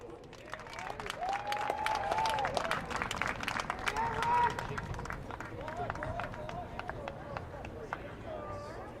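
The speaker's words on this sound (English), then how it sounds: "Let's give one last round of applause for our seniors tonight." A crowd in the stands applauds steadily for the seniors at a high school women's lacrosse game, with dense, sustained clapping mixed with a few whoops and voices throughout.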